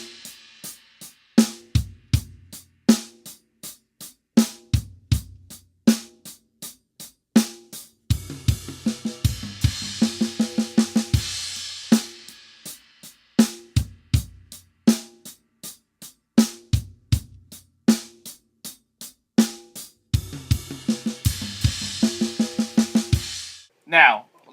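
Double paradiddles played on rack tom, floor tom and snare drum: a close, loud, dry sequence of rhythmic stick strokes moving across the drums, with repeated phrases and occasional cymbal-like wash in between, no talking.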